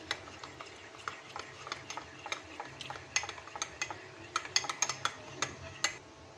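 Warm liquid milk stirred into powdered milk in a bowl, a spoon clinking and tapping against the sides in quick irregular strokes that grow busier toward the end, fairly close and quiet, with no voices.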